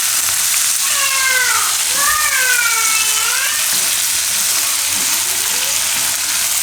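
Okra cooking in hot oil in a pan for a Gujarati gravy shaak gives a loud, steady, close sizzle throughout, with a brief faint tonal voice-like sound drifting over it.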